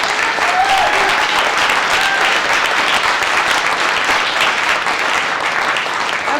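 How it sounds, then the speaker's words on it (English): Dense, loud applause from a large audience at a programming language creators' panel, sustained evenly for several seconds without voices. "Give them a round of applause."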